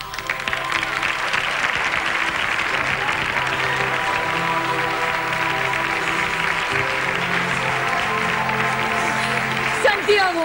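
A theater audience applauds during a comedy sketch, a steady, lively burst of clapping lasting about ten seconds, with music and some voices running underneath.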